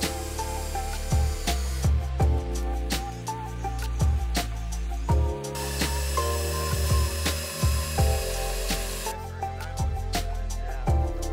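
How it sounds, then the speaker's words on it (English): A power drill with Torx bits drives screws into the corners of a wooden base during assembly, whirring in short repeated bursts that rise and fall in pitch, with brief pauses between screws. "screw down into each corner with provided screws"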